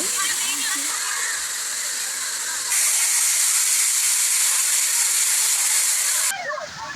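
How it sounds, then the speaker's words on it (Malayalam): Rushing stream water at Kodiveri near Gobichettipalayam flows continuously with a bright, hissing roar, close by and steady, swelling slightly partway through. "ഇതാ നല്ലോണം വാട്ടർ വരുന്നുണ്ട് കേട്ടാ. കൊറേ വെള്ളം വരുന്നുണ്ട്."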